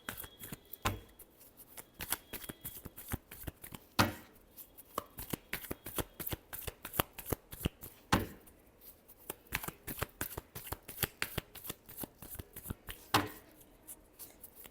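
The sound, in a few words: shuffling tarot cards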